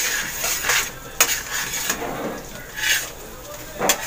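Food is flipped and stirred in a pan with garlic margarine, giving clattering utensil scrapes and knocks against the cookware in several short bursts over a faint sizzle.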